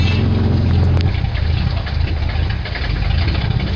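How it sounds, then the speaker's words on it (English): A car engine with an electric choke idles roughly at very low RPM, a steady, uneven low rumble with a slight knock, close and loud throughout, with no talking over it. "it's idling at like 300 RPM"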